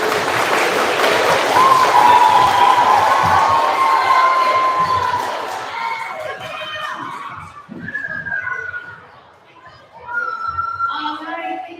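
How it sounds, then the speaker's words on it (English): An audience at a spelling bee applauds and cheers loudly with whoops and shouts, the clapping fading after about five seconds into scattered chatter and children's voices. "thank you for the awesome applause and support."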